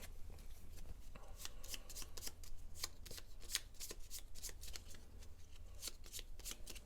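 Gloomhaven board game cards are shuffled up close, a steady run of quick papery riffles and snaps with no one talking.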